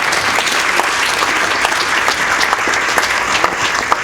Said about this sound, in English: We also have some Lakeview staff who came out to support the students, and thank you so much, staff, for coming out today. Can we give them a round of applause?